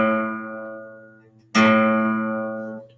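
A 12-string guitar's open fifth string is plucked twice, the first note already fading as a second sharp strike rings out loud and clear with rich overtones, decaying gradually in a quiet room.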